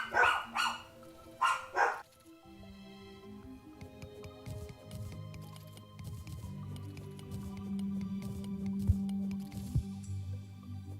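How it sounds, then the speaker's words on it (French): A few sharp barks from a dog in the opening seconds, then a quieter stretch of low rumbling background noise. "mes chiens ont un peu arrêté d'aboyer"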